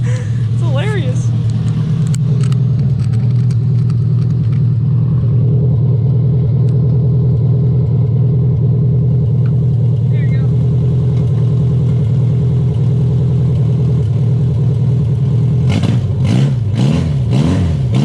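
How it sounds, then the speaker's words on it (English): Loud, rumbling Opel car engine with headers and a glasspack exhaust, a throaty, uneven note, running rough and steady with a slight misfire, with short revs near the start and again at the end. "Sounds like a demolition derby car."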